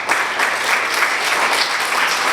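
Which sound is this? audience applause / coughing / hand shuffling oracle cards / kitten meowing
audience applause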